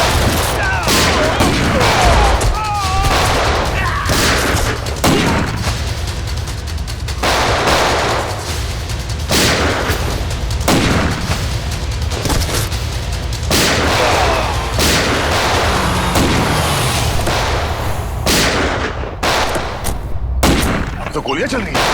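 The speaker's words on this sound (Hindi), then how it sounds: "तो गोलियां चल रही हैं।" Gunshots in a Hindi TV crime drama: a loud, continuous barrage of rapid shots keeps going for over twenty seconds with a steady close rhythm and only brief gaps near the end.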